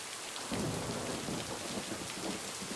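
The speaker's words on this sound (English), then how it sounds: "Just standing out here like two normal adults do out in the frigid rain." Steady rain from the video game Lake pours down in a cold outdoor downpour, a dense broadband hiss with a fuller wash of drops on surfaces after the first half second, continuous and without voices.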